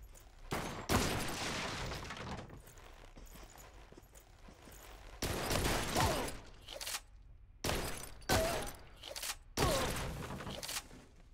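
Gunfire from a TV series episode comes in several loud, separate bursts of rapid shots. Quieter gaps lie between them, with faint background noise.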